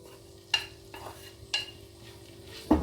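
Lean mince frying in hot oil for a pasta bake, a faint low sizzle punctuated by four separate scraping taps of a spoon stirring against the pan, close and quiet.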